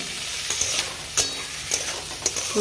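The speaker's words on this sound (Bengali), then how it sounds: "এটা দিয়ে ভাজা করবো একদম আচ্ছা করে" Malabar spinach fruit frying in a pan sizzles and crackles up close, with a few brief louder pops over the steady hiss.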